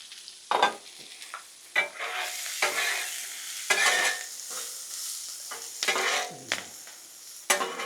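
Steak and vegetables sizzling in oil on a flat-top griddle for fajitas, a steady frying hiss broken by repeated scraping strokes of a metal spatula stirring the food.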